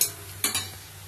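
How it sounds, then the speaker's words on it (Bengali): Onions frying in a pan with turmeric give off a quiet background sizzle, broken by two quick, close stirring scrapes. "আর অল্প হলুদ দিয়ে দিচ্ছি, তাহলে সুন্দরভাবে পেঁয়াজটা ভাজা হবে।"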